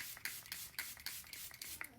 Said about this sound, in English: but first I'm going to spray my face with a little melting spray.